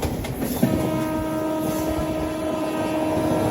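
Janshatabdi Express passenger train running between Chennai Central and Vijayawada past Nellore, heard as a loud steady rumble of wheels and carriages with a sustained horn tone throughout.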